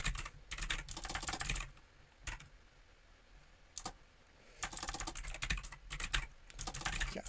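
Bursts of rapid typing on a computer keyboard while coding, close and crisp clatter of keys in several runs separated by brief pauses, no voices.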